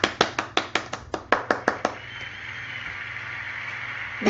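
A short burst of clapping from a few people, about a dozen sharp, evenly spaced claps close by, then a quiet room tone.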